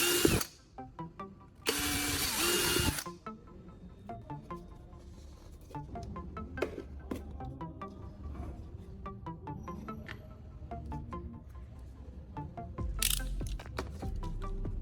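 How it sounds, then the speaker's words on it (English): A power drill boring clean holes at marked spots for electrodes, two loud short bursts at the start and another near the end, with quieter mechanical clicking and handling noise between. "using my drill, I'll carefully create clean holes at these marked locations"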